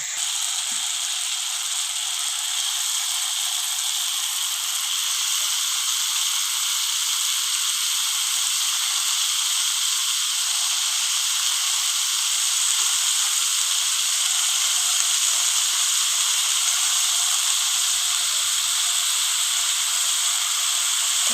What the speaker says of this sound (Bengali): এবার দিয়ে দেবো আমি কেটে ধুয়ে রাখা বাঁধাকপিটা